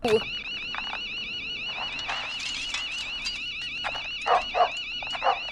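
A dog named Maxi barks in short, sharp bursts over a wailing electronic alarm that sounds throughout, with voices talking over the noise.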